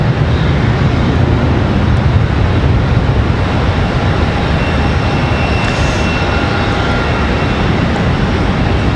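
A Contour Airlines jet rolling along a taxiway at Charlotte Douglas International Airport produces a constant engine roar with a deep low rumble, loud and steady throughout.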